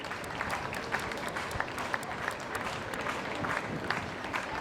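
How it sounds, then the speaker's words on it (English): A crowd applauds steadily as a runner comes down the home straight to finish a race at a school athletics championship, with continuous clapping held at a moderate distance and no voices over it. "So you can hear the crowd in the background clapping him in"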